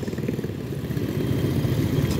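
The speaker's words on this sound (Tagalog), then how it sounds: "napakatahimik ng makina" A Euro EZ125i motor scooter engine idles at low volume, a soft steady putter with faint clatter that grows slightly louder partway through.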